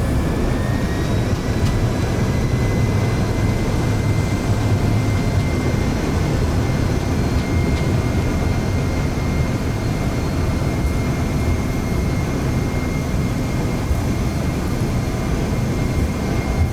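A CRJ-200 jet in a flight simulator rolls out after landing with thrust reversers deployed, giving a loud, steady broadband engine roar that holds evenly throughout, with faint tonal whines above it.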